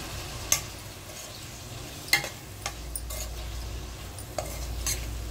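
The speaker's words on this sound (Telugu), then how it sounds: "టొమాటోస్ వేసుకొని మనం బాగా మిక్స్ చేసుకోవాలి" Cut tomatoes stirred and fried in a pan for a tomato curry, with a low steady sizzle under a few sharp scrapes and clinks of a spoon against the metal.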